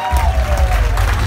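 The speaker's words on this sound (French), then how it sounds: "On peut les applaudir, s'il vous plaît" A brief burst of audience applause at a jury deliberation and awards ceremony in a Guadeloupe hotel ballroom, with a low rumbling hum and some faint chatter mixed underneath.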